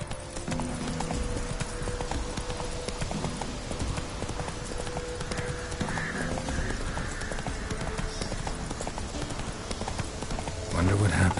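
Geralt's horse Roach galloping in The Witcher 3, rapid rhythmic hoofbeats pounding steadily throughout, close and prominent, with a voice speaking over the game sounds.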